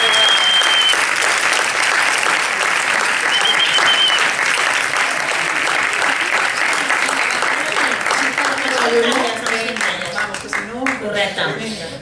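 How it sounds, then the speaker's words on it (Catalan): Loud, dense audience applause for three singers at a film festival session, sustained evenly and thinning into scattered claps near the end, with voices and cheers mixed in. "Un fort aplaudiment per aquestes cantants"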